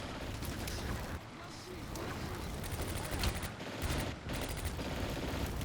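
Gunfire aimed at a tank in the World War II tactics game Combat Mission crackles and booms in rolling volleys, fairly distant and fading in and out against battle noise.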